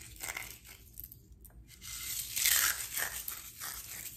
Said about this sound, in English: you want to crunch them up with your hands